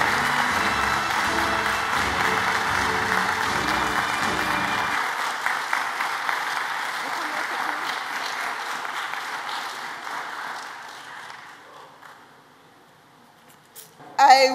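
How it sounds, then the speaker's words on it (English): Sustained audience applause at a Barbados Seventh-day Adventist secondary school graduation for the class of 2020, a dense clapping wash that swells, then thins and fades out over its final seconds, with a brief burst at the end. "I'm going to ask you parents to give them a round of applause."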